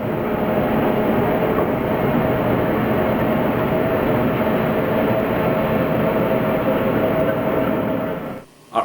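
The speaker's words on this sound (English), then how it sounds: "Our entry into the locks was assisted by 8 diesel-electric locomotives called mules, 4 on each side, or 4 in the front and 4 in the back." Diesel-electric mule locomotives tow a cruise ship into the Panama Canal locks, giving a loud, steady rail rumble that runs unbroken and then cuts off abruptly near the end.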